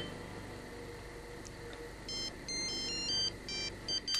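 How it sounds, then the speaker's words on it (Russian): A mobile phone ringtone plays an electronic melody of bright, repeating beeps that starts after a quiet stretch and continues steadily. "Мой мобильный."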